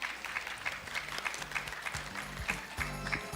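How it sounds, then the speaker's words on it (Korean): Audience applause welcoming the association president to the stage at a dementia care workshop symposium, a steady patter of clapping in a hall with background music underneath. "박수로 맞이해 주시기 바랍니다."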